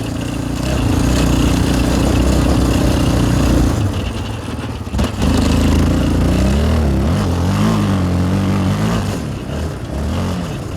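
Yamaha 700 Raptor two-wheel-drive quad engine revving and accelerating up close, a loud rumbling drone with rising and falling pitch sweeps and a brief break partway through.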